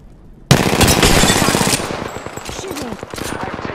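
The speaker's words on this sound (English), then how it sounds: "Shooting. I'm taking fire." Loud, close gunfire erupts in Apex Legends after a quiet moment, a rapid automatic burst that keeps rattling on with scattered shots after it.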